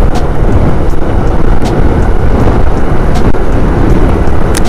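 Heavy rain hisses loudly and continuously at night on the Padma Bridge, with a deep rumbling roar underneath and a few faint sharp crackles scattered through, steady and close with no voices.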